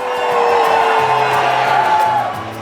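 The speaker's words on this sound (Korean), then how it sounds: "곳곳에서 환호가 터지죠." Crowd cheering fills the streets as people gather without masks or distancing, drinking and dancing as lockdown eases in England. The loud, dense roar of many voices and whoops carries steadily throughout, with a faint tonal sound running underneath.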